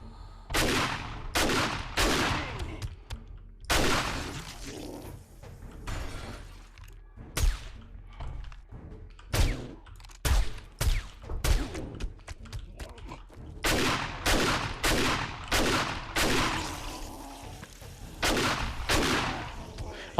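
Enemies fire guns in a zombie survival game set around a police department and labs: irregular loud gunshots arrive singly and in rapid clusters over twenty seconds, with short quiet gaps and no talking.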